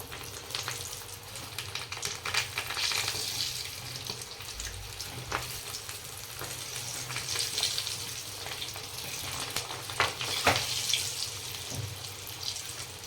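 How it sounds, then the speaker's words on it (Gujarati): Farali bafvada fritters frying in hot oil, a continuous close bubbling sizzle with occasional sharper crackles and no speech. "આપણું તેલ આવી ગયું છે. આ રીતના આપણે વડા બધા અંદર મૂકી દઈશું."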